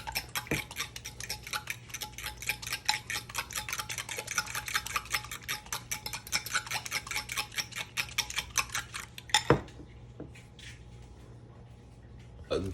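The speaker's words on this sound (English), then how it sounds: "you beat the egg until the eggs and everything's mixed real good" Eggs beaten with a utensil in a bowl for a cinnamon bun French toast egg wash, giving a fast, steady run of close clicking taps that stops abruptly with a clatter, followed by a few scattered faint knocks.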